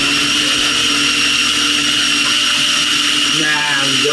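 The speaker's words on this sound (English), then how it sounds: "I'm trying to don't overheat this food processor." A food processor whirs loudly and steadily while blending beetroot hummus, its motor drone holding constant throughout with a slight shift in pitch near the end.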